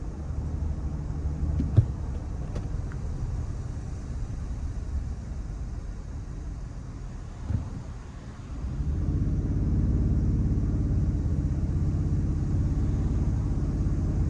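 A 2025 Toyota Tundra Platinum pickup with a 3.4-liter twin-turbo V6 drives along, producing a steady low engine and road rumble heard from inside the cab, which deepens and grows louder partway through, with no talking.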